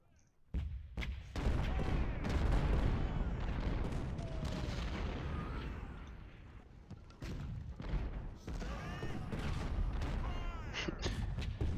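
A Union 24-pounder artillery battery fires in a Civil War battle game at Richmond: loud, continuous rolling booms and cracks of cannon and musket fire, sustained for the whole stretch with no speech.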